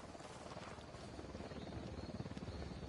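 Helicopter in a video game, its rotor chop pulsing steadily and loud through the whole stretch with a broad rumbling wash, no voices over it.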